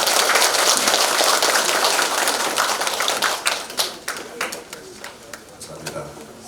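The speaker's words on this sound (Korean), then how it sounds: "여러분, 구청장님을 따뜻한 박수로 모시겠습니다" Warm applause at a memorial ceremony for Manhae Han Yong-un welcomes the Jungnang district mayor: a dense crowd clapping that gradually thins into scattered individual claps.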